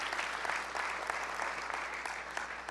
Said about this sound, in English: We can clap about that.